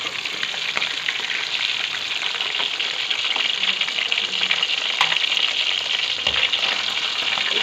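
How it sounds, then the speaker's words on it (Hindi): Fish pieces frying in oil in a pan for a fish curry, giving a loud, dense, continuous crackling sizzle with small pops, close by and steady throughout with no talking. "इसको 2 से 3 मिनट के लिए ही इसको मैं फ्राई करूँगी।"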